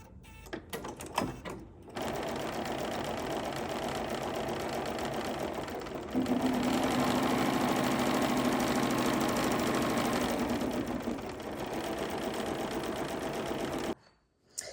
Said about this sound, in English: So let's do our placement stitch for our medium-sized mug rug.